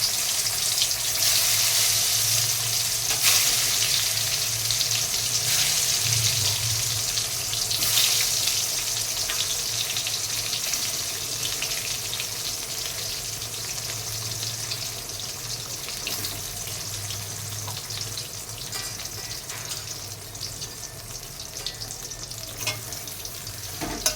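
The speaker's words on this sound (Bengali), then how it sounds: "বেগুন ভাজাটা আগে করে নিই।" Brinjal slices frying in a pan in a kitchen, a steady close sizzle with faint hiss and occasional light clatter throughout.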